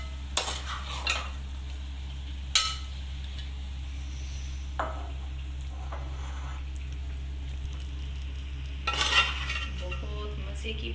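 Chicken aloo palak, a spinach and potato curry with chicken, being served out of a cooking pot with a ladle, giving a few scattered metallic scrapes and clinks over a low steady hum.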